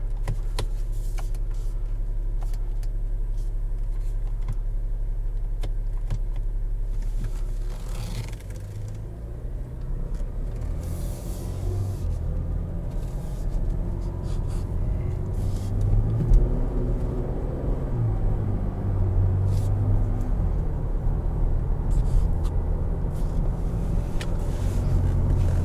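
A 2017 Cadillac XT5 Luxury SUV drives in drive mode from inside the cabin, giving a steady low engine and road rumble with soft wind noise throughout and no talk.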